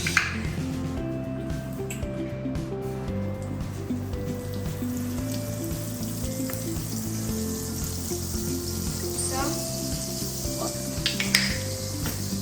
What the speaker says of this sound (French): pendant qu'on va toaster ça sur la poêle